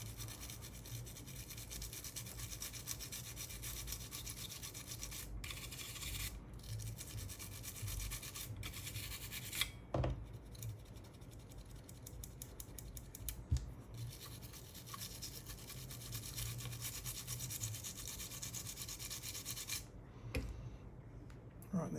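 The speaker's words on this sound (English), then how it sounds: "And get the toothbrush and then just try and get in there." A toothbrush wet with isopropyl alcohol scrubs a Game Boy Color circuit board in quick, faint back-and-forth rubbing strokes, with brief pauses and small clicks from handling between bursts.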